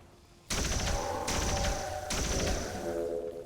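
Gunfire from the turn-based strategy game XCOM 2 (Long War of the Chosen mod): three loud, punchy rapid bursts in quick succession after a quiet start, each with a booming low end and ringing tail, close and heavy.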